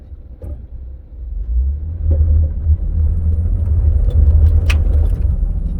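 Low engine rumble from a 2011 Ford F150 with the 3.5 engine under light acceleration, building after the first second, with faint intermittent rattling and metallic ticks heard close up.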